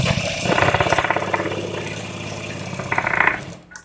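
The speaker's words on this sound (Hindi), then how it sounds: "अब हम दूसरी सिलाई भी लगाएंगे।" A domestic sewing machine stitches a second seam while attaching a pocket to trousers or palazzo pants, a fast mechanical clatter running steadily close by for several seconds, with a brief faster burst near the end before stopping.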